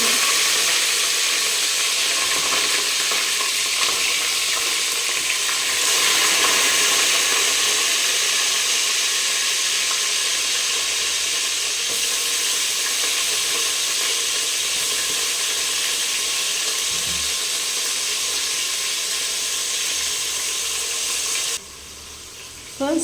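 Chopped onion and tomato sizzle loudly in hot oil in a pan, a steady, close frying hiss that holds nearly unbroken throughout before a brief dip near the end.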